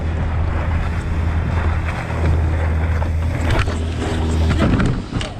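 A boat passes close by on open water, with a loud, steady engine rumble mixed with heavy wind buffeting the microphone and the wash of waves throughout.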